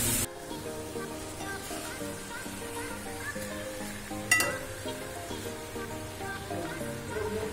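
Ghee and garam masala sizzle softly into a jackfruit curry in a pan, a low continuous frying hiss with occasional stirring clinks and one sharper clatter.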